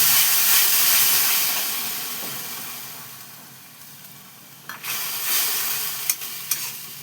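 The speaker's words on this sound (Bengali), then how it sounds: "তেলটা গরম হয়ে গেছে, আমি এবার তেলটার মধ্যে এই মশলাটা দিয়ে দিচ্ছি" A paste of garlic, ginger and green chilli hits hot oil in a pan for biryani, making a loud, steady sizzle that fades a little before sharp crackles and spatters come back near the end.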